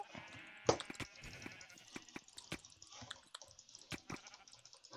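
Sheep bleat in the video game Sheep Quest, short cries scattered among clicks, taps and small knocks from play, all at low volume and with no voices.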